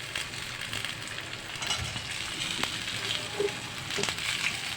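Chicken wings deep frying in oil give a continuous close sizzle with bubbling crackle and a few brief clicks and knocks against the pan, no one speaking.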